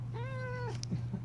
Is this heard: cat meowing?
yes